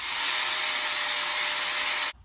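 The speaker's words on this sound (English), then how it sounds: "I'm going to use my grinder just so I can cut the chain off" An angle grinder cuts through a dirt bike chain to get it off without a chain breaker, a loud, steady high-pitched whine and grinding hiss lasting about two seconds before cutting off abruptly.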